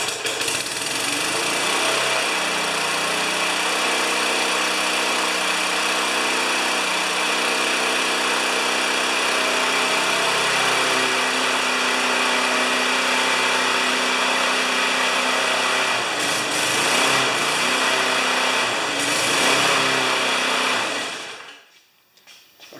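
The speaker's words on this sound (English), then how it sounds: "the engine hesitated because it had too much fuel" A Briggs & Stratton Classic lawnmower engine runs with a steady buzzing roar after carburetor work, over-fueled, close and loud, its pitch wavering slightly, then quickly dies away at the end.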